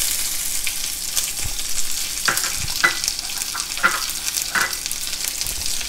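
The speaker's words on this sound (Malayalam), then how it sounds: "കടുക് പൊട്ടി കഴിയുമ്പോഴേക്കും ഒരു 10 ചെറിയ ഉള്ളിയും 2-3 വറ്റൽമുളകും അതും കൂടി അതിലേക്ക് ഇട്ട് കൊടുക്കാണ്." Mustard seeds, small shallots and dried red chillies fry in hot oil, a loud close sizzle with sharp popping crackles and stirring scrapes scattered throughout.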